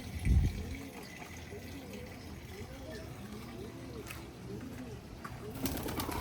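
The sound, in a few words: pigeons cooing outside a house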